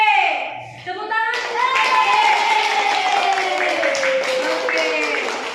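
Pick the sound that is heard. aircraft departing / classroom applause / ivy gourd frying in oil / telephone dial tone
classroom applause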